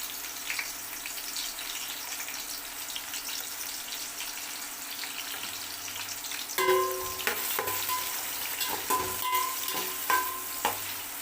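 Onions sautéing in hot oil with cinnamon, cloves and cardamom for chicken biryani: a steady frying hiss that turns louder partway through, with irregular scraping and clattering stirring strokes and no voices.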